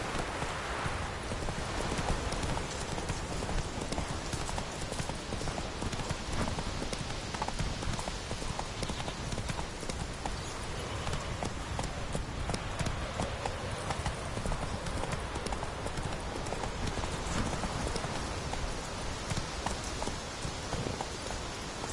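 Roach, the horse in The Witcher 3 on PS4 Pro, clip-clops with steady rhythmic hoofbeats on the ground throughout, close and moderately loud against ambient game sound.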